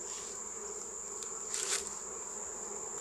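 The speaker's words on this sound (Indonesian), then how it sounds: "kita juga berdoa ya supaya lebah-lebah yang berterbangan ini mudah-mudahan kita tidak mengganggu" Honey bees at a beekeeping farm in Jambi swarm around during a honey harvest, a steady high-pitched buzzing drone with a brief louder pass as one flies close.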